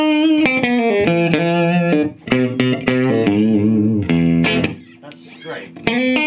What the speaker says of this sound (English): You can get a little bit of sort of amp distortion by adjustment between the master and the main volume.